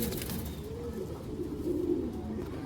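Racing pigeons at a farm coo in low, throaty rolling calls, close and fairly soft against a steady room background, with one bird swelling louder midway.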